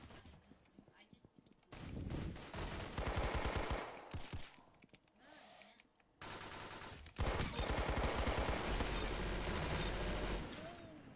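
Rapid bursts of automatic gunfire from the Roblox shooter Arsenal crackle in loud clusters, breaking off into brief quiet gaps before resuming, while a player talks over the action.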